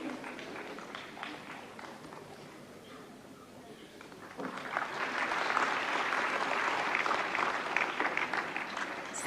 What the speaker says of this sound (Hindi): मंच पर रजत कमल ग्रहण करने के लिए पधारते हुए जोरदार तालियों से स्वागत करिए